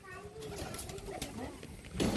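Pigeons coo softly in short, low, throaty phrases at a cage, the calls faint and close, with a brief louder rustle near the end.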